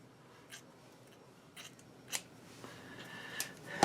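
Several short, crisp scissor snips at irregular intervals as a person trims their own hair, quiet and close, with no talking.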